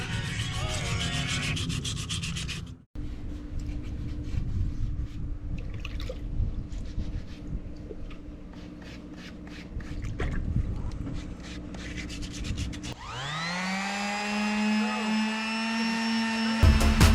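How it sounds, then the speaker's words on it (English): A power sanding tool works over a wheel with a steady, rough rubbing whir that briefly cuts out, then resumes, before a rising tonal machine whine takes over near the end. "I'm just sanding down this with a sanding tool."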